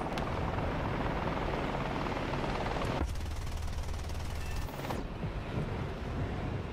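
Helicopter in the War Thunder combat game, a loud, steady rotor drone with dense low thumping, its pitch briefly shifting mid-way amid mechanical rattling, with no talking over it.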